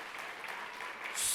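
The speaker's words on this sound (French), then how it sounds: "on peut encore une fois donner une excellente main d'applaudissement pour nos artistes" An audience at a regional student performance final applauds in a brief, dense burst of clapping that grows louder toward the end.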